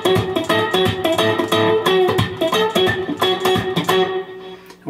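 An electric guitar plays the closing band measures of a song, strummed chords with crisp percussive attacks in a steady rhythm, close and clear, ending in a quieter tail with no talking.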